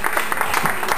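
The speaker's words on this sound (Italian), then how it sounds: "Un applauso spontaneo" Spontaneous audience applause at an Italian music game show, a short burst of dense clapping with rhythmic pulses, close and lively.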